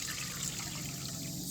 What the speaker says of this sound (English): We're going to take this juice, pour it into this bowl